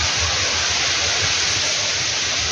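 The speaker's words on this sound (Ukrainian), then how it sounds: "В лісі дуже сильний вітер." Strong wind blowing through a forest, a loud dense continuous rushing roar without pauses.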